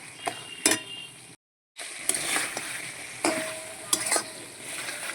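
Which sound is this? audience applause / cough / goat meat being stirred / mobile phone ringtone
goat meat being stirred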